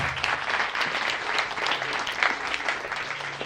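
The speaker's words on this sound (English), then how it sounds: "Give her another round of applause, please." An audience at a World Food Day celebration applauds, a dense, even patter of many hands from nearby that stays steady for a few seconds.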